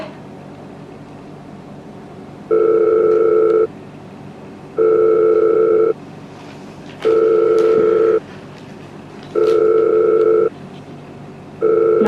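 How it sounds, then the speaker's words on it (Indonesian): A telephone call rings out with five evenly spaced electronic ringback tones, each about a second long with gaps between them, clear and steady over faint background hiss. "Aku telepon dulu deh."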